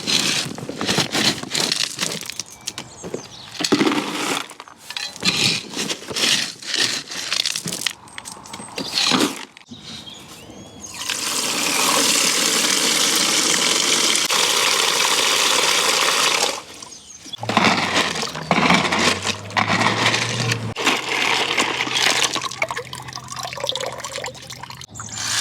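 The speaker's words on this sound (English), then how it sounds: "So I'll go and wash some gravel." Gravel being washed in water for the bottom of a spring garden pond: continuous close sloshing, trickling and rattling of stones, with a steadier rushing stretch partway through.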